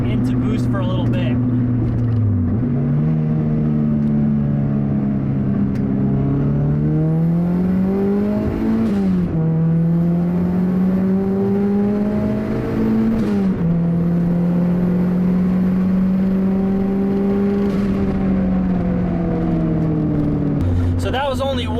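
Turbocharged car accelerating under boost on a track, the engine note climbing steadily through long pulls with brief dips at gear changes, loud and close from inside the cabin.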